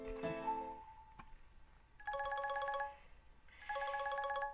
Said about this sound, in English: whenever the phone rings at this time of night